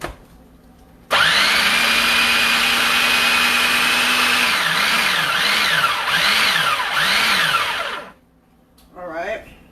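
An electric food chopper whirs loudly as it chops onion and peppers. It runs for about seven seconds, and its motor pitch pulses in repeated dips near the end before it cuts off. A short, fainter burst follows.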